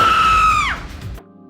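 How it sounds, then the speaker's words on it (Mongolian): A loud, high human scream of the kind entered for the loudest-scream world record, held steady for most of a second before sliding down and breaking off, with nothing else around it. "Жишээ нь хамгийн чанга хашгиралт."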